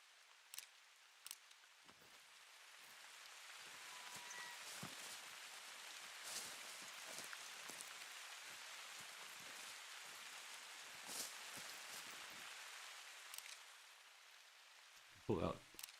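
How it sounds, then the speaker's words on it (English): Steady hiss of rain falling in the video game theHunter: Call of the Wild, swelling gradually and holding for several seconds with scattered patters before easing off, with no voices. "And the rain starts again, great."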